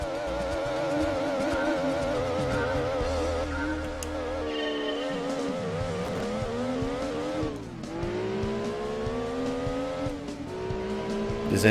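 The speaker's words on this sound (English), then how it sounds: "This engine sound is strange." A Gran Turismo 2 race car engine revs and whines through gear changes in a Clio Cup race in Rome at night, pitch climbing and dropping repeatedly, with brief tire squeal, loud and continuous.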